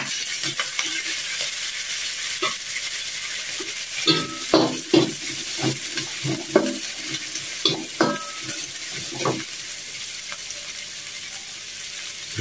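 Chili tipped into a pan of anchovies frying until crisp, a constant hiss of hot oil broken by repeated scraping strokes and clanks of a utensil against the pan as it is stirred, close and lively.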